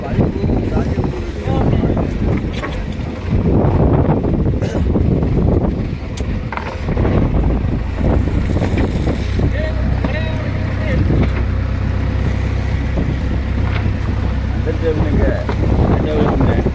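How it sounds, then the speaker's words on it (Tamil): Wind buffets the microphone on a boat at sea, a steady low roar and rumble throughout, with people talking over it. "இதே காத்து தான் நிற்கும்."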